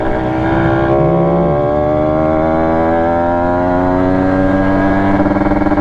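Kawasaki Ninja RR two-stroke motorcycle engine revving hard during a wheelie, a loud, continuous close-up buzzing roar with steadily rising pitch and no talking.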